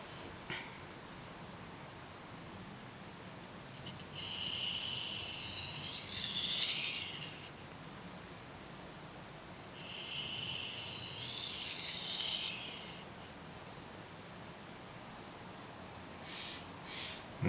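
A Mizuno knife is drawn lightly across a sharpening stone in two long, soft strokes of hissing grind, separated by quiet pauses, close and faint with no talk.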